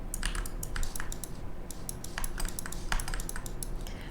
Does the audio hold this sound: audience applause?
no